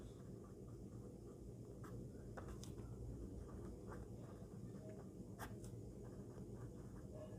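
Pen writing on paper while working a Class 10 geometry problem, a steady soft scratching that runs continuously, with a low background hum and a few faint clicks.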